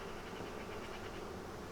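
Honeybees hum at an open hive during an inspection, a steady close buzzing drone with slight swells, heard alone with no talking.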